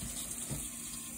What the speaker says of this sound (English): kitchen tap